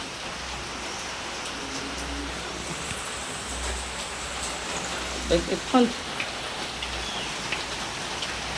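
Steady, heavy cyclone rain from Cyclone Montha patters on surfaces nearby, a dense even hiss throughout, with a brief spoken word partway through.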